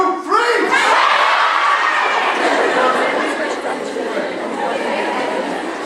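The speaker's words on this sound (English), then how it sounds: "As I count to 3, all of you yell out your name." A crowd of children in South Africa shout all at once, a loud burst of many overlapping voices that swells and then settles into a sustained noisy chatter.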